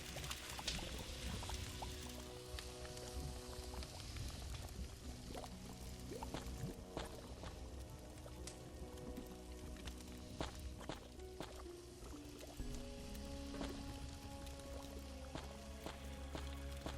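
A pot being emptied in the video game Ankh 2, with a steady pouring, splashing wash that runs the full length over a dense layer of in-game music and ambience.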